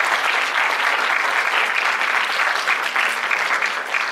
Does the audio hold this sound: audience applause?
yes